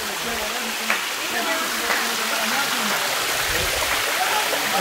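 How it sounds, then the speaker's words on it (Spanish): Water rushes steadily over a small waterfall, a broad close hiss and splash that runs continuously, with faint voices in the background. "Vamos a ir aquí a la cascadita a ver si nos echa un chapuzón."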